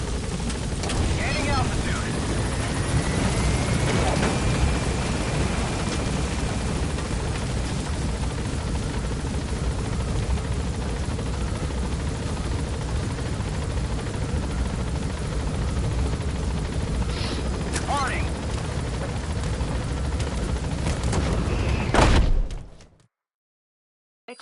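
Helicopter gaining altitude in Metal Gear Solid V, a loud, continuous rotor and turbine roar with a brief whistling whine early on and a few thuds, cutting off abruptly near the end.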